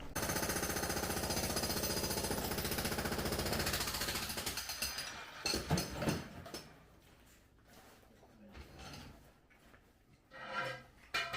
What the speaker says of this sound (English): I got a big head on the jackhammer